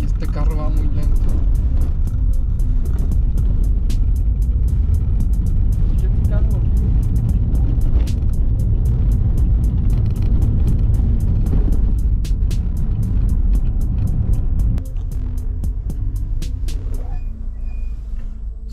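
Car creeping slowly in the border crossing queue from Tijuana to San Diego, a steady loud engine and road rumble close by, with a busy traffic hum throughout.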